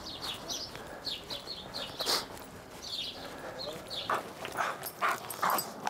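A police drug-detection dog searches through outdoor vegetation, its sniffing, snuffling and rustling heard close in short irregular bursts, with faint birdsong and distant background noise around it.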